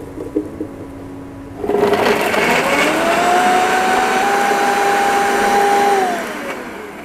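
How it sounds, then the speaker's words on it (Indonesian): A blender switches on and runs loudly for several seconds with a steady high whine that rises in pitch, then winds down. "Langsung kita blender di sini."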